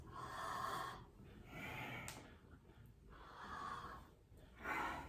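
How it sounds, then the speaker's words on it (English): Kundalini yoga breathing: long open-mouth inhales alternating with nasal exhales, about four rhythmic breath cycles of close, breathy rushing and snorting air with no talk. "We're going to inhale through the open mouth and exhale through the nose."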